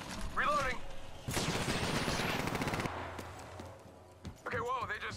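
Rapid bursts of gunfire from the battle-royale video game Apex Legends, loud and dense through the middle of the clip, with a voice talking before and after the shooting.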